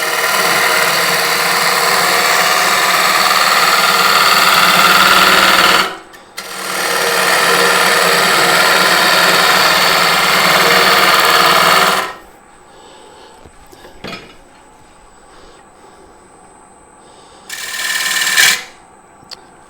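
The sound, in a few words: wood bowl turning on lathe with bowl gouge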